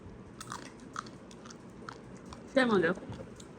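Fried crab being cracked open and chewed close up, giving faint crunching and biting sounds, with a short voice breaking in near the end.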